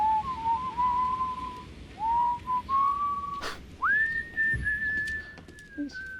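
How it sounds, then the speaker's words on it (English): A person whistles a tune in a few sustained, gliding phrases, with short pauses between them, against a quiet background. "Just whistling a tune"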